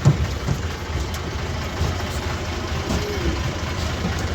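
A tractor engine runs steadily nearby during a farm ride on a school picnic, a low, continuous rumbling idle with a light background hiss and no talking.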